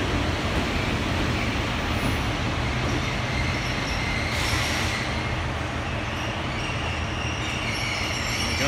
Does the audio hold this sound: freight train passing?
yes